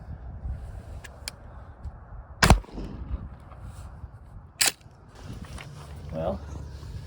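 A 12-gauge shotgun fires 15-pellet double-aught buckshot from 1-inch shorty shells at a patterning target outdoors, two sharp loud blasts about two seconds apart over a low steady background rumble.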